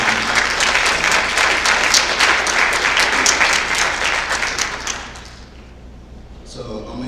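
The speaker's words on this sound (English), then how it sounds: "Please clap it up for him." An audience at a college signing event claps loudly and continuously, then the applause tapers off and fades to near silence after about five seconds.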